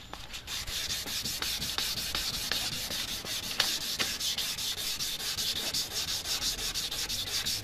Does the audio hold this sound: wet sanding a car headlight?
yes